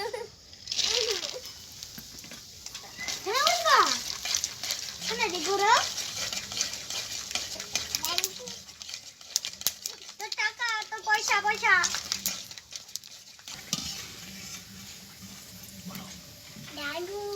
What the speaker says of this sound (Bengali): এবার কিছু কাঁচা বাদাম ভেজে নেব